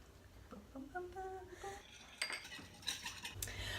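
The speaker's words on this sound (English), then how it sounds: "start dumping all of those sauce ingredients in this bowl and give it a little whisk" A whisk clinks and rattles against a bowl while sauce ingredients for gluten-free crispy orange chicken are mixed, starting with a few light taps and a faint voice, then building into quicker, brighter metallic stirring close by.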